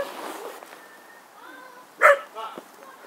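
A big, gentle-natured dog gives a loud bark around the two-second mark, followed by a second, quieter bark, over a low indoor background.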